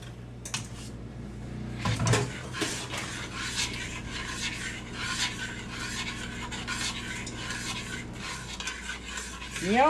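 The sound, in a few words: stirring bread pudding sauce in a pot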